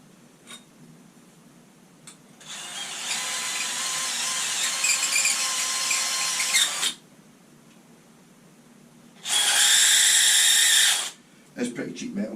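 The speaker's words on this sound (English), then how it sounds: "this reamer, which you're not really meant to ream metal with" A hand reamer enlarges a hole in a cheap metal guitar part. It gives two harsh grinding bursts, a long one of about four seconds and a shorter one later, separated by quiet, with a few faint knocks around them.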